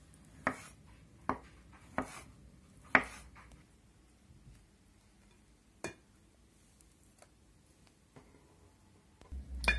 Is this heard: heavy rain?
no